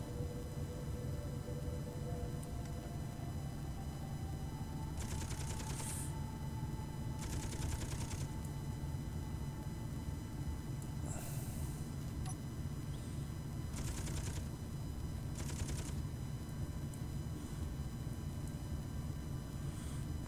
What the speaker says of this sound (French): La Gatling qu'on veut. On va essayer de détruire la tourelle.